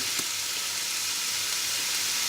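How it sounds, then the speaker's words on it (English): Lean beef frying in a pan for stuffed bell peppers gives a steady, even sizzle throughout, close and continuous with no talk over it. "Now it's going to take about 5-6 minutes for the beef to cook."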